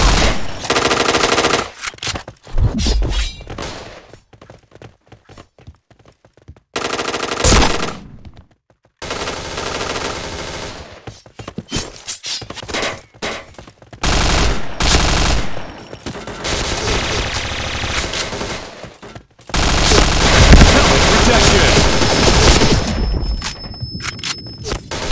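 An MP7 submachine gun in the shooter Point Blank fires loud, rapid automatic bursts separated by short silent gaps, with metallic dings and clangs between volleys.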